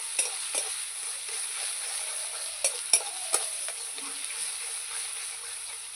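Bottle gourd frying in ghee in a kadai, a soft steady sizzle broken by a few sharp spatula taps and scrapes, close and fairly quiet, with no voices.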